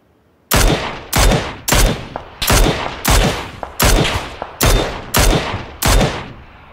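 Rapid bursts of automatic gunfire from the PUBG video game, nine sharp loud volleys in a steady rhythm, each cutting off abruptly with no talk over them.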